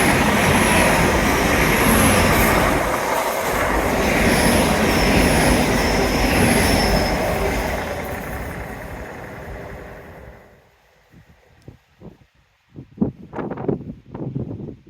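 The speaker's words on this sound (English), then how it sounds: "Of course, a train appears immediately." A train rushes past loud and close for about ten seconds, a broad roaring rumble with higher metallic hiss, then cuts off abruptly, leaving quiet with a few sharp knocks and bumps.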